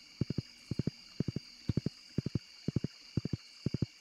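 Horse hooves clip-clop in the Stardew Valley video game, with steady groups of three crisp, evenly spaced hoof clicks repeating at a brisk walking pace, clear and alone over a faint background hum.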